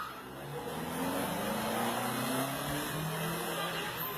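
A car accelerates toward a person during a street fight between a taxi driver and an Uber driver, its engine rising steadily over traffic noise and nearby commotion, moderately loud throughout.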